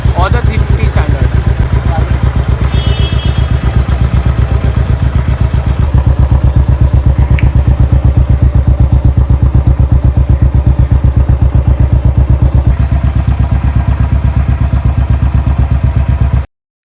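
Royal Enfield Standard 500 single-cylinder motorcycle fitted with an aftermarket exhaust, idling up close with a loud, rapid, even thump-thump beat and mechanical clatter throughout, while a person talks over it.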